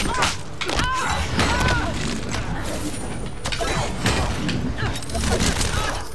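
Rapid bursts of gunfire in the video game Injustice: Gods Among Us crackle in quick succession with booms and clatter, while a voice talks over the shooting.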